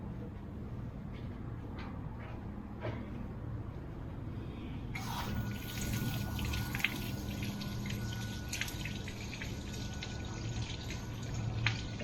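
Water from a hose runs steadily to flush a Nissan outboard marine engine on a tender boat, a close continuous hiss that turns brighter and stronger partway through, with a single short spoken word.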